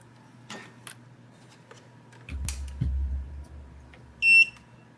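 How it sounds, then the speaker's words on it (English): An electronic beep sounds once, short and fairly loud, near the end of a stretch of low rumble, clicks and bumps during an evening build session. "Somebody beeping."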